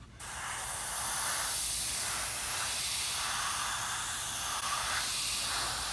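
Steady hiss of an aerosol can spraying primer onto car body seams, close and continuous for several seconds after a brief start.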